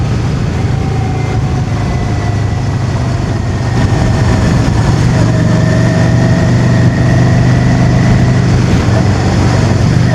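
A motorcycle engine idles steadily throughout on an autumn day in the Lake District countryside, its low, continuous rumble close and unchanging with no talk over it.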